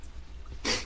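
A single sharp sneeze bursts out near the end, loud and brief, after a stretch of quiet room tone.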